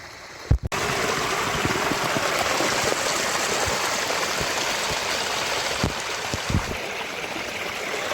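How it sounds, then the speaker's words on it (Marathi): A swollen Konkan stream near Dapoli rushes after heavy monsoon rain, making a steady, loud broadband roar of flowing water, broken briefly by a couple of dull handling thumps. "तर मित्रांनो हे बघा, हे पूर्ण कसे भरून आले ते नाले"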